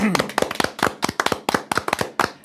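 People celebrate the announced confirmation of a presidential impeachment in South Korea with loud, sharp hand claps in quick rhythmic bursts, close and punchy, with short gaps between groups.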